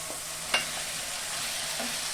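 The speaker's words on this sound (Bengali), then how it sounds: "আমি এখন মটনটা দিয়ে দিব।" Parboiled mutton frying in a pan with onion, tomato, garlic and ginger, making a steady, even sizzle with one sharp clink of utensil near the start, close and without speech.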